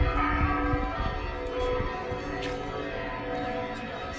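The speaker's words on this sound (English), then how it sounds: "And the bells." Church bells ringing in the distance in Matera, a steady resonant tolling over a low rumble of background noise.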